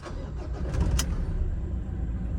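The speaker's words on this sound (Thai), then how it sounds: "สตาร์ทเครื่องยนต์นะ ตัวนี้เป็น บิดสตาร์ทนะครับ" A Mazda BT-50 Pro pickup engine cranks and catches with a sharp starter burst, then settles into a steady, close idle rumble.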